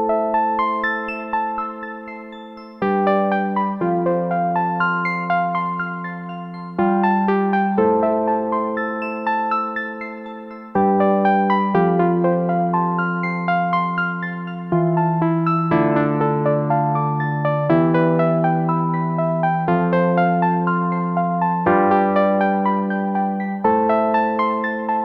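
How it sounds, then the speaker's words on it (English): An Arturia Analog Lab Teenage Fugue preset plays a bright synth sequence: repeating arpeggiated notes over sustained tones, moving through chord changes every few seconds at an even, steady volume with no voices. "The sequencing is all happening on the Dupe 8 sound, and it sounds like this."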